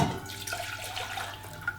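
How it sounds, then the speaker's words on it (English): Water poured out of an antique Himalayan singing bowl gives a close, splashing trickle that eases into a thin, steady run with a few small drips, and no talk over it. "if I pour the water away"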